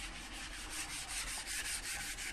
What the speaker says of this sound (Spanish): Ya lo está pues lijando.